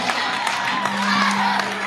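An audience cheers and applauds, a dense, steady crowd roar of clapping and whoops at moderate loudness with a sustained tone underneath, continuing without a break.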